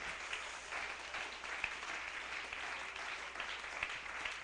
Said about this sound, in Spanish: Démosle ese aplauso al Señor Jesús.